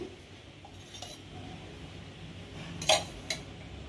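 A kadai wok set on the stove and handled for chicken gravy, faint kitchen background with a few metallic clinks and knocks, the loudest two near the end; no voices.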